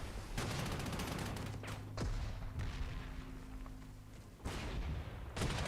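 Artillery barrages in the Panzer Corps 2 war game: several sharp booming reports with rumbling tails, spaced a second or two apart, loud and close with no talk.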